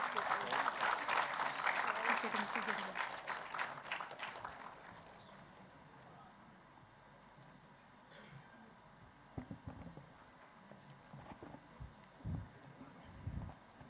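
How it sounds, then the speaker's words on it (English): A crowd applauds steadily for several seconds, then the clapping fades out, leaving quiet room noise and a few scattered thumps. "we also request everyone to give a big round of applause"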